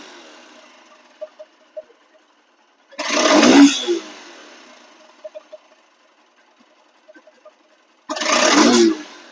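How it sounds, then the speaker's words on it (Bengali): A second-hand Honda X-Blade motorcycle's engine is revved twice in long loud bursts, with a quiet idle and a few small ticks between them, heard up close outdoors. "এখন আপনারা এই বাইকটি সাউন্ড শোনেন"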